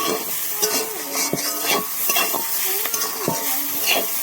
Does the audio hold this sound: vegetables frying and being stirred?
yes